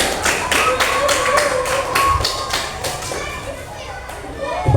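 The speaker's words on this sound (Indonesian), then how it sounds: "Riksa, yuk tepuk tangan." Classroom of children bursting into applause, a dense run of quick overlapping claps with lively kids' chatter throughout, fairly close and steady in loudness.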